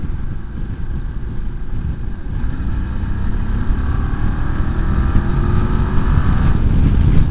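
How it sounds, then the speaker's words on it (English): A Voge DS800X Rally or DS 900X motorcycle accelerating in fourth gear in sport mode from about 40, a loud, close, steady engine drone rising gradually in pitch, mixed with strong wind rush and no speech. "now if I do the same in sport mode, take it down to 40 in fourth in sport mode"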